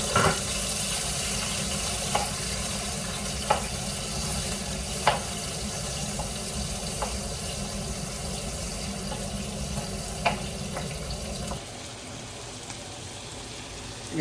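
Bitter gourd (ampalaya), salted and squeezed beforehand, sautés in a pan with a steady, close sizzle, punctuated by occasional soft utensil taps, before the frying noise drops away near the end.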